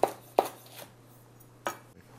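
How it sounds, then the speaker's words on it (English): Knife slicing Asian red jalapeño peppers on a bias against a cutting board, three sharp isolated chops spaced apart, close and fairly quiet over a steady low hum. "These are an Asian jalapeno. And we're just gonna slice them on a bias."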